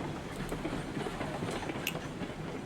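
A Mosca steam locomotive on a loaded run in RailRoads Online rumbles steadily along mountain track, with close, continuous wheel clatter and a low chugging drone.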